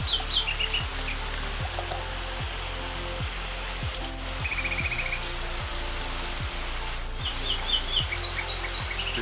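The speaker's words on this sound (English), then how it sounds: "The sound of the birds reminds me of very beautiful Africa" Birds chirp and sing by a river near a church in Espinar, Spain, with short scattered calls over a steady background rush of flowing water.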